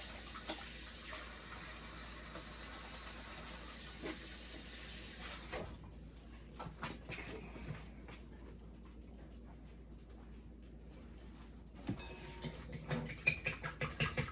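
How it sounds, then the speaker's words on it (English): A kitchen tap runs steadily over a hand being rinsed, a soft continuous hiss for several seconds that then cuts off, followed by scattered light clatters and handling noises. "Now I'm going to rinse my hand again."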